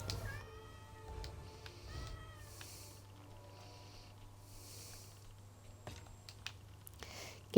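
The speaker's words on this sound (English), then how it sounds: "Guinness, your meowing is so quiet that it's not annoying me" A cat meows softly several times over a low steady hum, with faint clicks of computer keys between the calls; the meows are quiet and close, with no talking.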